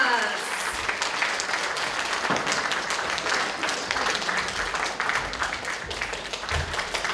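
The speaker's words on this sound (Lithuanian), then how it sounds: "Plojimai, plojimai, Atžalynas." Audience applause for Atžalynas at a spring event in Elektrėnai, Lithuania: dense, steady clapping from a sizable crowd that keeps going at an even level for the whole stretch.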